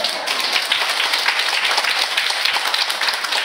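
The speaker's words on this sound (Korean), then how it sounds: "박수 한번 주시기 바랍니다" An audience at a Bible lecture gives a round of applause, loud, close, steady clapping from a roomful of people with no voices over it.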